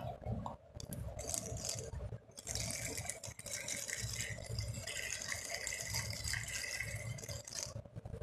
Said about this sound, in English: into this I will be adding the second and third milk